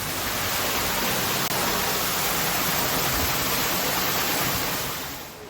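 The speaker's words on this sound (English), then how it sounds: "That's this wonderful waterfall thing behind me." A waterfall at Paignton Zoo rushes in a constant broadband roar, full and close, with no talking, easing off slightly at the very end.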